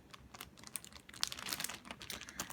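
A plastic bag is handled one-handed, giving soft, irregular crinkles and rustles close by, faint and brief, with no talking.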